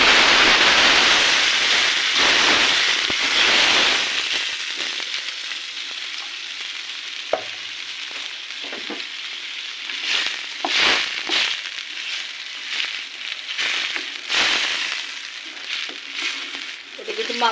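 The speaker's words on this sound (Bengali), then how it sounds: "সুন্দর করে এখন এই মাংসটা আমি ঢেলে দেব বিসমিল্লাহ বলে।" Head meat is poured into a hot pan and hisses loudly at first, then settles into a quieter sizzle broken by scraping stirs and clatters.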